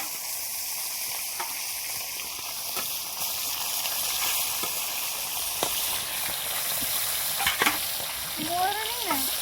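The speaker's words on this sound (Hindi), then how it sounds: "एबे आमे माछ गुडी को टिके भल भाव में फ्राई करदबा।" Fish pieces coated in turmeric and salt fry in hot oil with a steady, dense sizzle throughout, broken by occasional sharp crackles and spatters, near and fairly loud, with no one talking.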